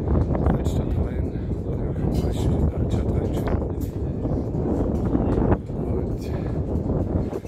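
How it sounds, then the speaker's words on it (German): Strong wind buffets the microphone outdoors at the Bärenstein tower above Plauen, a loud low rumble that gusts and drops, with someone speaking German briefly over it. "sehr windig hier, sehr windig hier. Man hört es bestimmt auch, die Geräusche."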